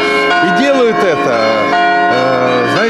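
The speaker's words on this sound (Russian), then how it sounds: "И вот смотрите, как колокола звенят." Church bells ring in a steady, sustained peal at a St. Tatiana's Day celebration after a Divine Liturgy in Odesa, heard under continuous talk by a man.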